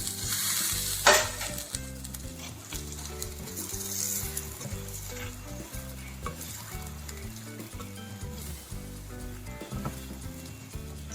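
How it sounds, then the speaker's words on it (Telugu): Mushrooms tipped into a hot pan of oil and paste for a cashew mushroom curry, giving a steady close sizzle with stirring scrapes and an occasional clink of a spoon on the pan. "ఇప్పుడు మష్రూమ్ వేసుకుందాం."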